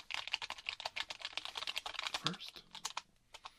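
Rapid, soft clicking of fingers typing on a computer keyboard, an even stream of keystrokes close up that slows near the end, with a brief quiet spoken word partway through.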